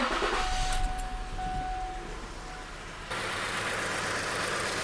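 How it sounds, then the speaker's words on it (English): Ford engine idling roughly with multiple cylinder misfires from faulty injectors, a steady uneven rumble up close with a thin whine at first, then a louder, harsher tone after a sudden shift partway through. "We're gonna have multiple cylinder misfires with these injectors."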